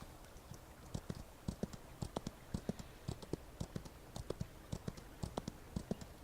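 Horse hooves clip-clop in a steady, fairly quick rhythm in the Outlaws of the Old West video game, sharp even taps that keep going throughout at a moderate distance.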